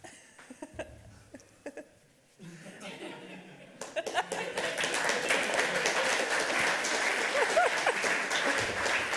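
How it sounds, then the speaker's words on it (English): A panel talk audience at a hacker conference breaks into applause that swells and holds steady, mixed with chuckles and scattered laughter after a few quiet taps and murmurs. "Round of applause."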